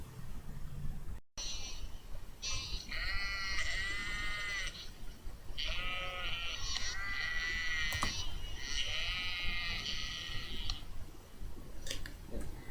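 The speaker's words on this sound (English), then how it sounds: "What then is this bleating of sheep in my ears?" Sheep bleat repeatedly in a series of wavering, nasal calls, several overlapping and fairly close, over a steady noisy background with no talk.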